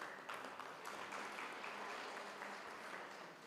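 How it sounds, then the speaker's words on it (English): Applause from an audience at a regional ICT stakeholders' meeting, honoring the service providers: fairly faint but continuous clapping that holds steadily throughout and tapers slightly at the end. "Can we give a hand of applause to our service providers?"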